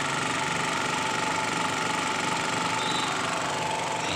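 A small generator engine idles steadily after a carburetor replacement and choke fix, a continuous close, even mechanical hum with no talking throughout.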